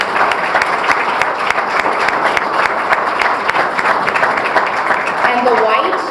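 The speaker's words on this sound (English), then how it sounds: "So give yourself a round of applause." Scholarship award recipients and guests at a Dominican Day Parade ceremony give a sustained round of applause, loud and dense with sharp individual claps audible in the mix and a faint voice emerging near the end.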